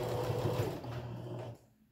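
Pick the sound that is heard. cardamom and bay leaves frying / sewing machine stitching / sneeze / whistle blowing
sewing machine stitching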